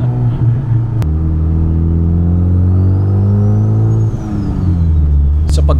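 A 2000 Nissan Silvia S15 Spec R's engine idles with a deep, loud rumble, then gets short blips of the throttle as it revs up and settles back, with someone talking over it.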